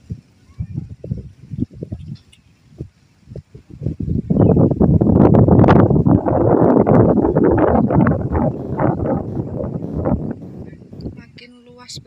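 Wind buffets the microphone at Telaga Madirda lake in Karanganyar, rising into a loud, sustained rumbling gust after a few quieter puffs, then easing off.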